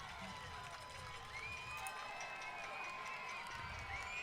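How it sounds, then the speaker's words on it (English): Spectators at a minor league baseball game between the Rocky Mountain Vibes and Idaho Falls Chukars give a moderate, steady round of applause and cheering after a sacrifice fly scores a run, heard from a distance across the park. "Nice hand from the crowd."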